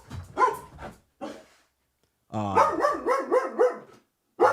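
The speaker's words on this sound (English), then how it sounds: "I'm gonna put my dog in the cage here, and then we'll introduce Young Kick." A dog barks and whimpers a few times nearby, short yelps between stretches of someone talking, with one sustained vocal run in the middle.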